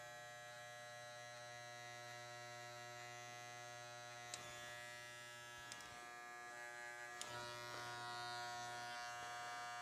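Electric hair clippers buzz steadily while lining off a sideburn during a high fade haircut on curly hair, a close, constant electric hum with a few small clicks and scrapes as the blade meets the skin.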